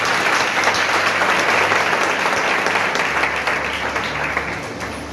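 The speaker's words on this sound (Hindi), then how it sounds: "मैं चाहता हूं एक दफा जोरदार तालियां खुदावंद यीशु के लिए बजाएं।" A church congregation at a Thanksgiving service claps loudly together in a dense, sustained round of applause that tapers slightly toward the end.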